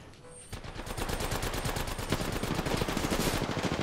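Rapid automatic gunfire from a close-range Apex Legends firefight, dense overlapping bursts that start abruptly after a brief quiet moment and continue loud and steady to the end, with no talk.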